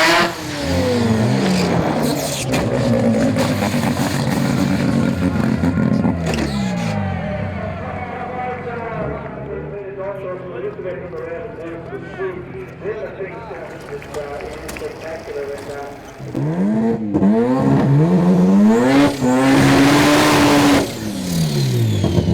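Mazda R100 wagon on a drag strip making a hard run, engine revving loudly and rising through the gears, with a commentator talking over most of it.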